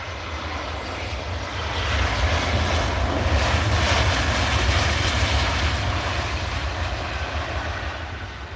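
A WestJet Boeing 787-9 Dreamliner jet roars steadily at an airport, a broad sustained engine rumble that swells in the middle and holds loud throughout, with no voices.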